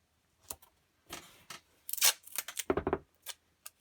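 Tape is pulled and torn off a roll in a quick run of close, crisp ripping and crackling bursts that are fairly quiet, with short pauses between them and no talking.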